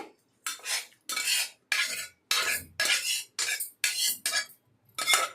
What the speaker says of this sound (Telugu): రోటి పచ్చడి పైన పడుద్ది, జాగ్రత్తగా దంచుకోవాలా.